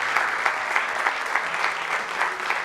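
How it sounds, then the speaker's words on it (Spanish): A church congregation at a Spanish-language service claps for a guest, the applause a fairly close, rhythmic patter of hands with a low hum running beneath. "Démosle un aplauso fuerte a David."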